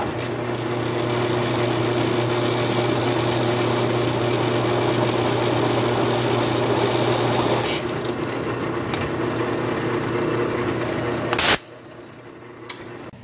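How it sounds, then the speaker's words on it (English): A power drill with a countersink bit whirs steadily for several seconds, chamfering a hole during Land Pride RB1660 rear blade setup, then stops abruptly, leaving quiet room noise and a small click. "I went ahead and touched it with the countersink just to give it a little chamfer"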